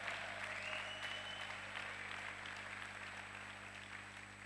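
Church congregation applauding during a sermon: a soft, continuous wash of clapping heard at low level over a steady electrical hum and a faint high tone.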